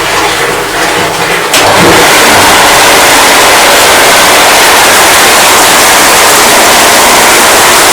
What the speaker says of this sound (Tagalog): kailangan natin ipanda rin ang motor ulit